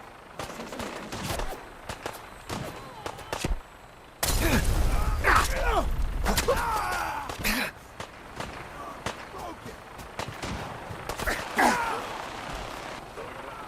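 Bursts of gunfire crackle through Fallout 4, scattered sharp shots at first, then a louder sustained volley, with mechanical clatter and someone talking between the shots.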